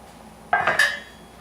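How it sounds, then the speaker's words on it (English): Pots and a lid clatter on the stove while a simple homemade tomato sauce is brought to a boil: a short burst of metallic clanks and clinks, close and fairly loud, with no talk. "Okay, find the lid. Forgive the noise, I'm not a quiet cook."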